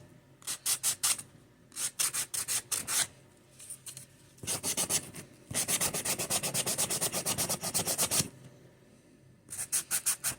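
Someone sands a handmade Christmas gift coaster by hand, making close, rapid back-and-forth scratchy rubbing strokes in bursts separated by short pauses, with one longer continuous run of strokes.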